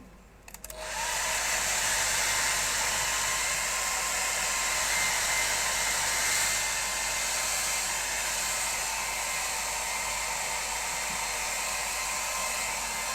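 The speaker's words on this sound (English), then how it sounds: "Quick blast with the hairdryer" A hairdryer blasts steadily onto a watercolour painting of an eye done in Payne's Grey and burnt sienna, switching on abruptly and then holding a loud, constant whooshing roar close to the microphone with no talking.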